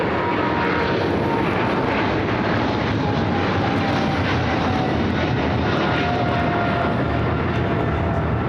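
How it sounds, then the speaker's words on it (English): A Boeing Dreamliner airliner bound for Tokyo Narita begins taxiing at LAX, a loud continuous jet engine roar with a steady whine, heard from nearby on the airfield without speech. "The Dreamliner heading to Tokyo Narita, now starting its taxi."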